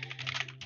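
Quick run of keystrokes on a computer keyboard, close and fairly quiet, a rapid cluster of clicks over a low steady hum.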